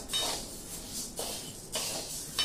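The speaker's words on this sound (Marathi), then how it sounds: "आता हे जे गहू आहेत हे मस्तपैकी भाजून घ्यायचे। ही भाजणी कोरडी भाजायची आहे" Wheat grains dry-roasted in a pan without oil, giving a continuous bright scraping rattle that swells in bursts as the grains are stirred and tossed, close and moderately loud with no talking.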